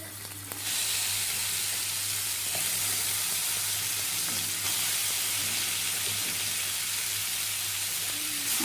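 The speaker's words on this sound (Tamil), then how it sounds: "நல்லா வதக்கிக்கலாம். சிக்கனை சேர்த்துக்கலாம்." Chicken for shawarma sizzles and fries in a pan, a loud steady hiss with occasional scraping of stirring, close up and continuous after a short quieter start.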